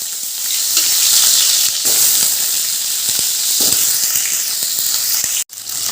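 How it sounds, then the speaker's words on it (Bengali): Sliced pointed gourd sizzles loudly in hot oil, a steady crackling hiss that stays fairly even throughout, with a brief break near the end. "তেলটা গরম হয়ে গেছে এবার ওই কেটে রাখা পটলগুলো দিয়ে দিলাম"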